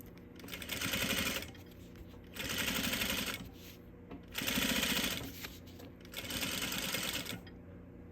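A Juki 8100e sewing machine with a zipper foot stitches straight piping in four close, rapid bursts of mechanical whirring, each lasting about a second and a half and separated by short pauses.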